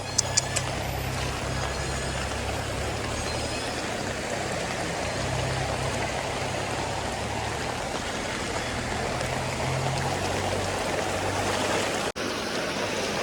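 Floodwater from the Gandhinagar drain near Kullu rushes during heavy monsoon rain with a loud, continuous broadband roar, and a brief dropout near the end.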